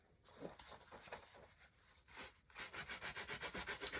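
A big block rubber stamp is scrubbed clean in quick back-and-forth strokes, first a few scattered rubs, then a steady rapid rhythm of about a dozen close, firm scrubbing passes.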